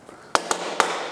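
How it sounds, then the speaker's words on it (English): Three sharp smacks knock brass door hardware into place, crisp close impacts with quick decays in a quiet room. "We'll try to drop this thing in and smack it."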